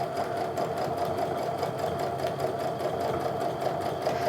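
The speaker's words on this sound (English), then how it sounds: "So now I'm just keeping the edge of the foot lined up with the edge of that fabric to get a nice even top stitch" A sewing machine runs a steady top stitch around the edge of quilting cotton on a sling bag, its fast, even mechanical whirr and rapid needle ticks holding constant and close with no talking.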